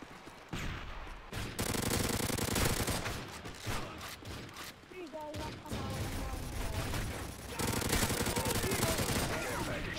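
Rapid automatic gunfire bursts from a Call of Duty: Modern Warfare 3 hardcore juggernaut infected match, loud and sustained with brief pauses, while players talk over the shooting.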